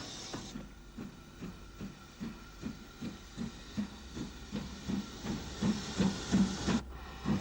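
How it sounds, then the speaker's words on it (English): UG class steam locomotive No. 48 runs round its branch train in Ulster, giving a steady rhythmic chuff that quickens slightly over a hissing steam background, moderately close with no voices. "UG number 48 runs round the branch set."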